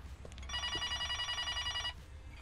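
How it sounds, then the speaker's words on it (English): A telephone in the horror game B-Horror: Subway rings with a steady, trilling electronic bell for about a second and a half. The ring is clear and fairly loud over faint background hum, with no talking. "Saved by the phone ringing and my alarm."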